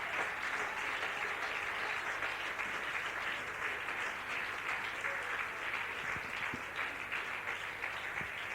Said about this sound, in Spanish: Que el aplauso sea para Cristo